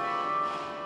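Carillon bells ring from a cathedral tower in Belgium, a sustained resonant bell tone sounding loud and steady for under a second with no voices.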